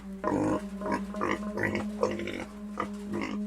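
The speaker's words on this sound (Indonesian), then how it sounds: "Itu kan suara babi." A pig grunts and oinks in a series of close, rhythmic snorting calls over a steady low hum.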